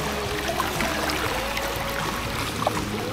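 A swollen mountain stream at a Saraburi campsite during the rainy season rushes and trickles steadily close by, a constant watery babble with small splashes and no talk.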